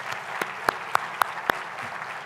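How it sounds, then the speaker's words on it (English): Scattered claps ring out in a large plenary hall at the World Bank-IMF annual meetings, a handful of distinct, fairly loud hand claps spaced about a quarter second apart over a soft room background. "he deserves a round of applause from all of us"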